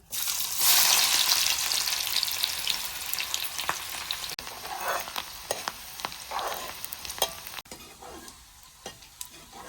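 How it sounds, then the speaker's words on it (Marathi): Onion frying in hot oil over a wood-fired stove, a steady loud sizzle close by, with scraping and stirring strokes scattered through and the frying easing toward the end. "तेल गरम झालं आता कांदा टाकतो"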